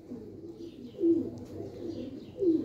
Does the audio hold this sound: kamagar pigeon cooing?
yes